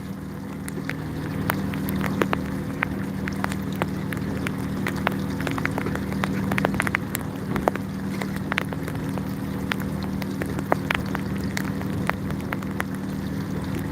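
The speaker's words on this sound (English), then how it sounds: "Can you hear the rain?" Rain falls steadily on the Oregon coast, a soft continuous patter with scattered sharper drops hitting nearby surfaces over a low background hum.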